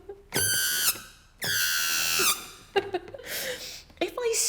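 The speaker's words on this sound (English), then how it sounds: "the rubber balloon will vibrate" The stretched neck of a rubber balloon squeals loudly as air escapes, two long sustained high tonal squeals up close, followed by shorter sputtering squeaks and bursts of rushing air.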